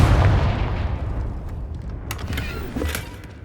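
Confringo blasting spell cast in Hogwarts Legacy: a heavy booming blast that starts loud and slowly fades, with a few sharp crackles in its tail.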